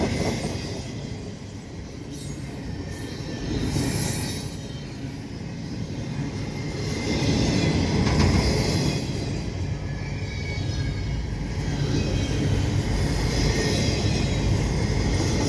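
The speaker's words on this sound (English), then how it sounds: "so you can see 2 trains going" A freight train of low-profile well cars rolls steadily past Dorval Station, a continuous loud rumble of wheels with faint clickety-clack and occasional squeal, no voices.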